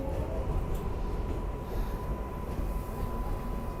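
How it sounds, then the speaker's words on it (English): A New York City subway 7 train rumbles steadily along the track near Flushing Meadows in Queens, a continuous loud rolling roar with faint metallic squeal, no voices. "Yep, you do smell the 7 train there, Jim."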